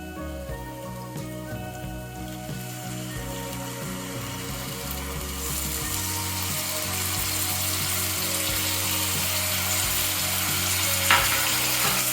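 Sliced onions bubble in tamarind water in a pan, a steady close simmering crackle and hiss that grows slightly louder and denser as it boils, without any speech.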